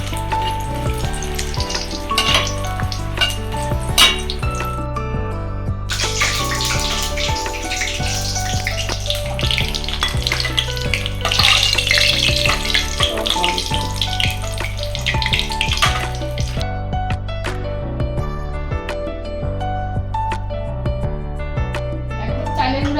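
Sweet pumpkin slices coated in rice flour fry in hot oil, a continuous close sizzle under background music that runs throughout.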